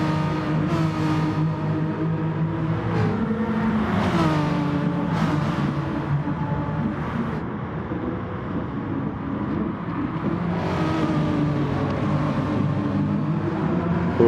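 Race cars in a racing video game's touring car championship finale drone continuously with layered engine tones, pitch shifting as they brake and accelerate through corners, steady and moderately loud without talk.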